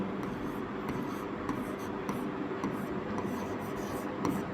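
Steady scratching and rubbing of a pen or chalk writing on a board or paper during a Class 10 maths lesson on polynomials, continuous and close, with faint soft speech underneath.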